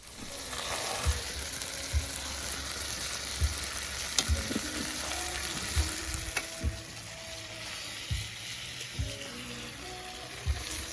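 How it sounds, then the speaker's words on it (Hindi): Mashed boiled potato tikkis pan-fried in a village kitchen in the Uttarakhand hills, giving a steady close sizzle with occasional soft knocks and scrapes from turning. "शिवानी मैम जो है वो टिक्कियों को ही सेक रही हैं"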